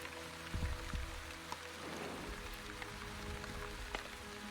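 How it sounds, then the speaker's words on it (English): Rain in the video game The Wandering Village forms a steady, even patter with low tones beneath it and a few brief louder knocks, and no voices. "Walking in the rain."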